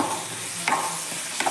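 A salt and masala mixture being stirred in a pan, with two short scraping strokes over a steady, bright frying hiss, close and loud with no voices.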